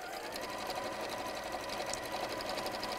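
A sewing machine stitches a bag through fabric backed with fusible fleece, giving a steady, close, continuous mechanical whir with a fast rattling pulse and no talking throughout.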